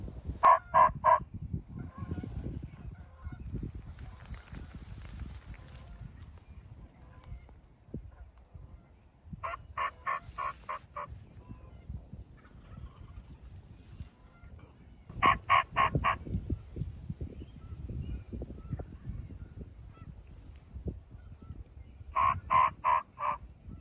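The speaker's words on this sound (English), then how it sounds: "These turkeys are just over that tree line right there." Bursts of wild turkey toms gobbling come from beyond a tree line during a Minnesota turkey hunt, at intervals of several seconds, rapid rattling calls over soft rustling background noise.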